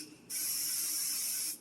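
A single burst of cooking oil spray hisses into an air fryer basket preheated to 400 degrees, close, steady and lasting just over a second before cutting off.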